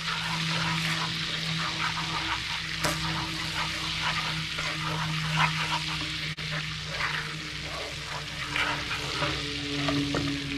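Chili flakes being stirred into melted butter in a pan for a Turkish cilbir spiced butter sauce, a steady close scraping and soft sizzle running throughout with faint background hum.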